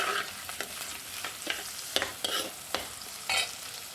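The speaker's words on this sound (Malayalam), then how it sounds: "നന്നായിട്ട് നമുക്ക് വഴറ്റിയെടുക്കാം." Onions and green chilies sautéing in a pan for a prawn theeyal, with a soft steady sizzle broken by several crisp scraping stirs of a spoon, quiet and close, no voices.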